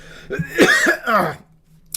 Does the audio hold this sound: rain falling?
no